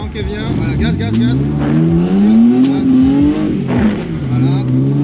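Car engine revving hard and easing off as it slides through figure-eight drifts, loud and close with rising and falling pitch, while a man gives driving instructions over it.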